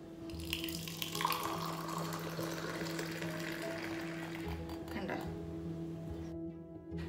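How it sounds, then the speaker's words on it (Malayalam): Ginger tea is poured into a glass cup in a steady, continuous liquid stream, heard close over a constant low background hum. "കപ്പിനകത്ത് ഞാനിപ്പോൾ ഒഴിച്ച് കാണിക്കാം നിങ്ങളെ"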